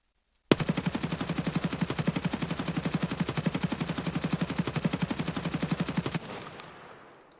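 An RPK machine gun in Escape From Tarkov fires a single long full-auto burst, a fast, even rhythm of close, loud shots for nearly six seconds, then a short fading tail.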